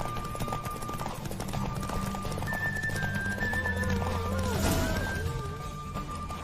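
Rhythmic hoofbeats of a running horse in The Witcher 3: Wild Hunt clop steadily amid background noise, with a whinny partway through.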